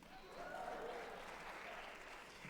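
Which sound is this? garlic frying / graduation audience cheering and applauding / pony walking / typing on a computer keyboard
graduation audience cheering and applauding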